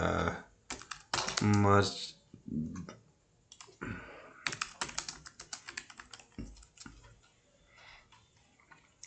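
Fast clicking of computer keystrokes while typing a search on a freelance marketplace site, with someone speaking Hindi over and between the bursts of taps.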